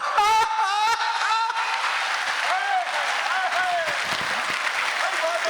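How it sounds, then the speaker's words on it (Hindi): Applause from the audience at a Hindi comic poetry gathering (hasya kavi sammelan), broad and steady throughout, with a voice speaking over it at the start. "जहां आप है ही नहीं वहां आप ताली कम बजाई आपने"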